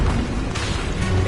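An Incendio fire spell cast in the Hogwarts Legacy game lands as a short, loud booming burst with a sudden flare about halfway through, over a low rumbling background.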